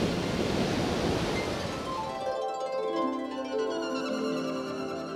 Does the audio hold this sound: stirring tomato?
no